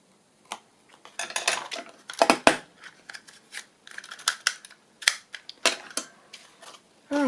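Paper being punched with a corner punch on a glass mat during postcard envelope crafting, a series of sharp snapping clicks and crunches in irregular bursts, close and fairly loud with quiet gaps between.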